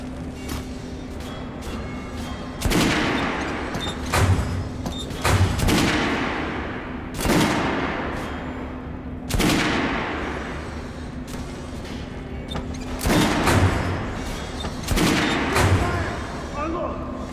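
Gunfire cracks through a Metro Redux shooting range, several sharp, loud shots and short bursts spaced a few seconds apart, each leaving an echoing tail, with faint voices between them.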